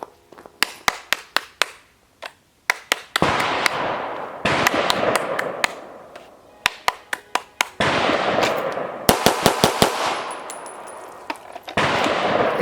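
Rapid pistol shots fired in quick strings during a bill drill at a range, sharp cracks in tight bursts of several rounds separated by short pauses, loud and close with ringing echo after each string.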